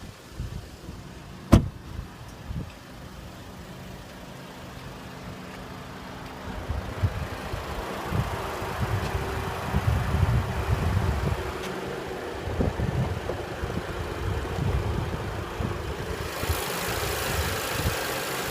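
A 2015 Audi A3 with a 1.8-liter TFSI turbocharged four-cylinder engine runs under the open hood, a low steady idle hum after a sharp click, growing a little fuller and rougher partway through, heard close with no talk.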